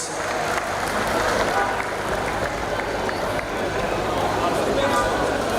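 Crowd applause welcomes the municipal mayor at an outdoor börek food festival, a steady dense wash of clapping held at even loudness throughout, with murmuring voices mixed in.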